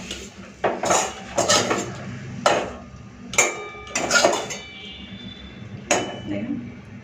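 Fried vegetables come out of a kadai, with sharp metal clanks of a spoon against the wok and dishes in irregular bursts, while a voice talks between them.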